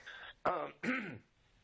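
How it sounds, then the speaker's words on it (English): Two short, rough coughs or throat clearings in quick succession, close to the listener, with quiet between them. "I keep coughing."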